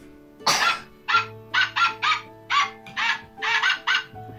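A voice imitates a small dog barking in a children's story told in Arabic. About ten short, rhythmic yaps come close and clear, with a longer first bark and then quick repeated barks.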